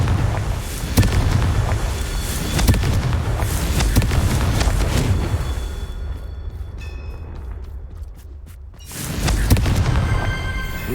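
A Confringo fire spell blasts in Hogwarts Legacy with loud booming bursts and crackling impacts over a dense rumbling bed, then a brief near-silent gap before the noise swells again.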